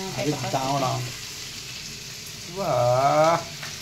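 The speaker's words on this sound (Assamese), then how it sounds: "পিয়াজ ফ্ৰাই চলি আছে" Chopped onions frying in a pan as chicken is being prepared give a steady sizzle, partly masked by nearby talk.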